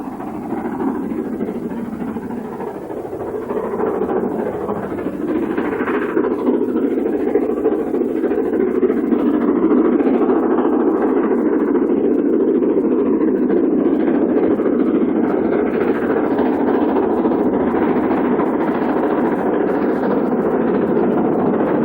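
Steam locomotive hauling the Midlander, a 12-coach train, climbing along the top of the line near Ace Gill: a continuous low rumbling engine roar that builds slightly and holds steady, heard alone without voices.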